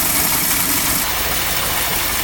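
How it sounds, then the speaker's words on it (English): A 1959 Mercury Monterey V8, revived after a decade asleep and with a slight exhaust leak, idles with a steady, broadband rumbling hum and fine vibration, close up and constant, with no voices. "Other than maybe a little bit of an exhaust leak, there's no noise coming out of this engine at all."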